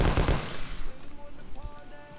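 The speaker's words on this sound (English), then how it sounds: "The Tommy gun is a special favorite of mine." Tommy gun bursts from the modded shooter Fallout: New Vegas, a loud rattle of rapid shots in the first second, then tailing off beneath game ambience and tonal effects.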